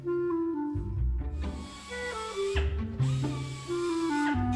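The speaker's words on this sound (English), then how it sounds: "the hide goes to the staking machine, where small hammers repeatedly pound the leather to make it softer" A leather staking machine pounds hide with small repeated hammers, giving a loud, continuous mechanical din with a droning tone that shifts in pitch. It runs close and steady, with no voices.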